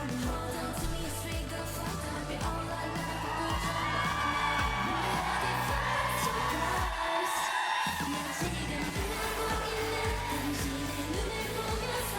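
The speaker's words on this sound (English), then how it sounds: "I love how the crowd stops singing because they can't go along with it, but I still hear a few of them." Concert crowd at a performance singing along, a dense mass of voices over loud live music and drums, continuous throughout with only a brief dip in the low end midway.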